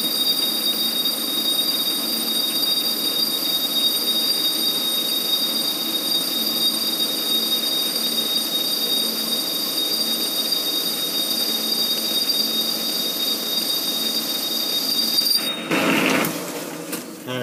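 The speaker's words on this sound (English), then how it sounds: "We've slowed the lathe down, we're in 170 RPM." A lathe turning at 170 RPM while machining a clutch hub, a steady mechanical hum with high whining tonal lines, constant and moderately loud, ending with a brief scraping clatter.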